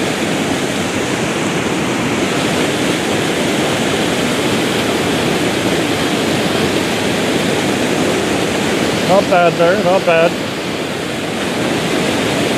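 A waterfall roars with steady, dense rushing water that fills the whole scene. A person speaks briefly near the end over the constant flow.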